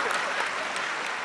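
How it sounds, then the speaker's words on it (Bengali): A studio audience on a Bengali TV game show, Banglar Sera Paribar, claps in a short, dense burst of steady applause. "জোরে হাততালি"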